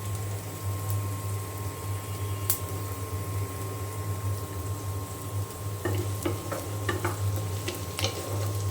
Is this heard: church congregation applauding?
no